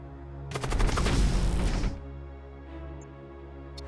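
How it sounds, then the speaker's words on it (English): The Putrefactor ship fires its weapons in the Void War game, a loud rapid burst of overlapping shots lasting about a second and a half, then dropping to a low electronic hum. "The Putrefactor will shoot over there."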